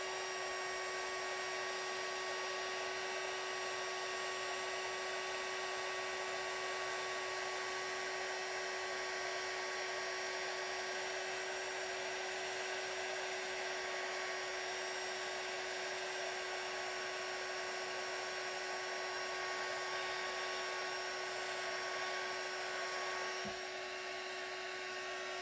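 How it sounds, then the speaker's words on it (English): An embossing heat gun blows a steady, loud whirring hiss without a break as it melts clear embossing powder on a stamped paper craft project; one faint click comes near the end. "So now I'm going to take an embossing heat gun and I'm going to melt it."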